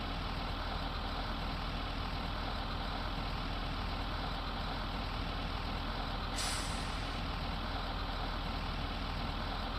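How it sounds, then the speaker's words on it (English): School bus idling with a steady low engine rumble heard from inside, broken by one sharp hiss of the air brake releasing partway through. "I love the sounds of this bus."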